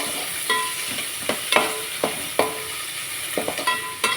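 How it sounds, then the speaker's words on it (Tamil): Onions sautéing in a pan for a crab fry, with a steady close sizzle and a spatula scraping and stirring in irregular strokes about every half second. "வெங்காயம் போட்டு வதக்கலாம்"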